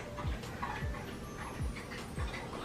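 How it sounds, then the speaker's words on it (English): A pet dog barks loudly indoors at home, about four sharp barks spaced out across a couple of seconds over quiet room noise. "my dog is so loud"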